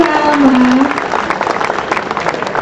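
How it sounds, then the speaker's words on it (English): Audience applause for a contestant at a Middle East pop singing competition, a steady dense wash of clapping with a brief tonal note near the start, fairly loud and continuous throughout. "let's give Alma here a round of applause"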